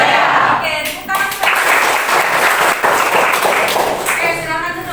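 A school class applauds together in a classroom, dense steady clapping filling the whole stretch, loud and close, with voices mixed in.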